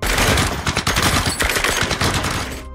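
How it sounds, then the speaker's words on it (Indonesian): Loud bursts of rapid gunfire from several soldiers' guns in a film, dense and continuous for a few seconds, with sharp cracks layered over a rumbling background. "Para tentara itu pun langsung saja menembakkan senjatanya."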